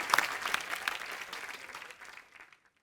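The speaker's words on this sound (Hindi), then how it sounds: "जोरदार ताली हो जाए" Studio audience at The Kapil Sharma Show bursts into brief applause, with dense clapping that thins and fades out within about two and a half seconds.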